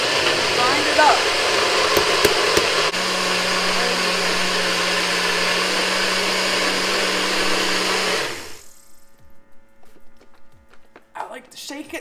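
A countertop blender grinds spinach and berries into a smoothie. The loud, steady motor whir runs for about eight seconds, then cuts off abruptly and leaves quiet room sound with faint bumps.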